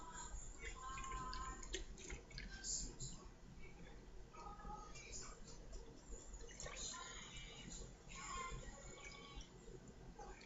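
Water poured into a plastic sensory bottle, faint trickling and dripping splashes in short bursts, quiet and close, with a person talking softly alongside.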